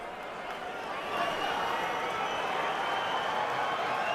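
A capacity crowd of over 16,000 roars for boxer Jean Pascal at a big fight, a dense, steady wall of cheering and applause that swells after the first second and holds loud throughout.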